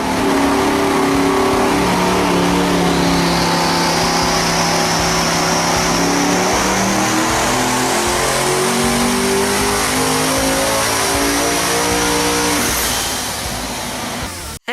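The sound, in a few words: Devel Sixteen V16 quad-turbo engine revving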